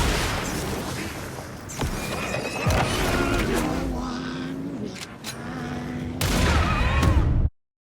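Enemy gunfire in the horror game Alan Wake II, including shotgun blasts, sounds as sharp bursts and booms over dense, loud game noise, with a heavy blast near the end before the sound cuts off abruptly.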